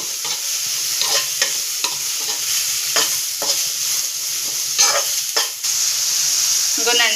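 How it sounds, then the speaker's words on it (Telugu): Long thin slices of onion fry and sizzle in hot oil for aloo bonda, with a steady crackle and repeated stirring scrapes running throughout, close and fairly loud. "ఫ్రై అయిపోతాయి పర్వాలేదు మగ్గిపోతాయి"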